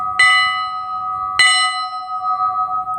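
Dinner bell at a Texas historical park, rung as two loud, close metallic strikes about a second apart, each leaving a long sustained ringing tone that carries on under faint background noise.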